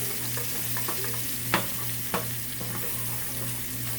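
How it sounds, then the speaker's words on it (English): Philly cheesesteak filling cooking in a pan for quesadillas, a steady close sizzle with a low hum underneath and two brief clacks of a utensil, no talking. "So we're gonna let that simmer down a little bit."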